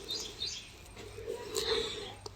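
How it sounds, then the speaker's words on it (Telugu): Sparrows chirp in short, bright bursts, several scattered calls over a couple of seconds against a soft outdoor hum, with no talking. "అవి పిచ్చుకలు సౌండ్లు నాకు బాగా ఇష్టం మేడం."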